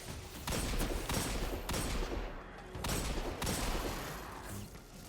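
Rapid gunfire in Destiny 2, several dense bursts of automatic shots in quick succession with short gaps between them, loud and close, with no talking.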